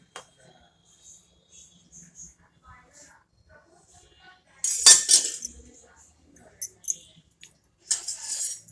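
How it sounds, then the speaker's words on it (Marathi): A spoon handle stirs shingole, dumpling-like pieces of horse gram dough, in a pot of boiling gravy, making a few light clinks and scrapes scattered between stretches of someone speaking. "चमचेच्या दांडीच्या साहाय्याने हलवा"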